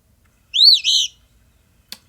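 An Eastern phoebe gives a single clear two-part call, a sharp burred note rising and falling, followed by a brief faint click, heard alone in quiet surroundings.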